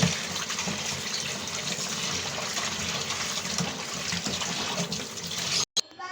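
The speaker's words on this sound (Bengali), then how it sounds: "আমার শিং মাছগুলো ধোয়া হয়েছে" Stinging catfish are washed in water in a home kitchen, a continuous close splashing and running-water rush with a brief dropout near the end.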